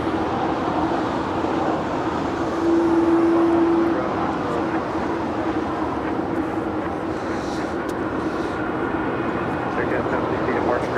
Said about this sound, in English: Next departure here on the south side is Spirit Airlines A320 heading to Las Vegas, flight 582.